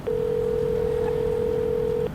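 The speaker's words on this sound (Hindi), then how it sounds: "मैंने मनोज को फोन लगाया" A steady single-tone telephone dial tone plays for about two seconds as a call is being placed, with faint background noise and no voices.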